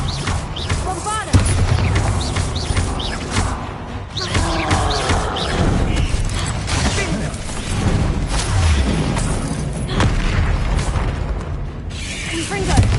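Bombarda blasting spell explosions in Hogwarts Legacy, repeated loud bursts and crackling impacts amid a dense, busy combat mix of other spell effects and shouted voices throughout.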